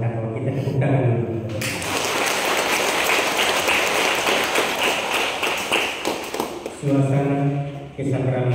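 Congregation applause rises at a church groundbreaking ceremony, a loud, dense patter of many hands lasting several seconds, with voices or music audible before it begins and again as it fades.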